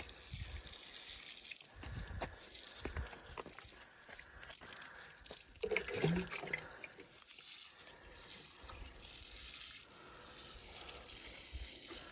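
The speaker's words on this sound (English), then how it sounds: "Just going to water those in." Water splashes and trickles while plants are watered in a garden at a house in the Algarve hills, a continuous wash of flowing water with brief louder gushes, close by and without talk.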